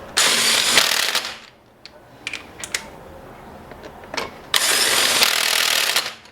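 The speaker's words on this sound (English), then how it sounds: "So next we'll put the driver's side wheel on and torque it up to the correct setting of 4 or 5 ugga-duggers." Impact wrench torquing up the wheel nuts on the driver's side of an Escort RS Cosworth, two loud sustained buzzing bursts at the start and end with a few short clanks and taps between them, and no talking.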